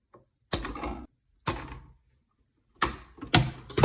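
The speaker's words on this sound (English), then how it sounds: "Got my wire cutters. I'm just going to cut this guy out." Wire cutters snip electrical wire while an old bathroom exhaust fan switch is removed, with four sharp, close metallic snaps separated by silence, the last two coming quickly together.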